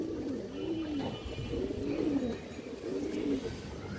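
A female Giribaz pigeon coos softly in a few repeated, rolling phrases, set against a steady background hiss.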